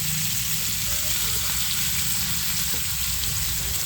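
Fish coated in spices sizzles steadily in hot oil in a home kitchen, a continuous close, bright frying hiss with a low rumble beneath, loud and unbroken throughout.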